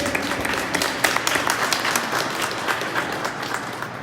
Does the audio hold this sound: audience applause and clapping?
yes